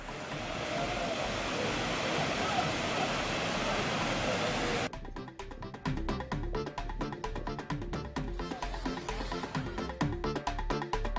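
Hogenakkal waterfall on the Kaveri river with increased flow, a dense steady roar of falling water for about five seconds before cutting to unrelated rhythmic sound.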